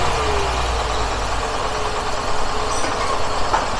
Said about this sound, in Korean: 엔진은 원래는 이 소리가 나는 게 맞습니다